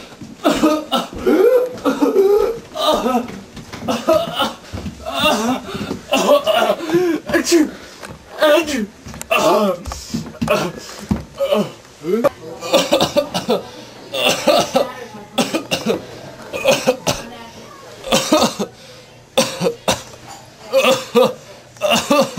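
Repeated coughing, sneezing and exaggerated throat sounds from people acting out an illness, loud and close, densely mixed with talking and vocal noises throughout.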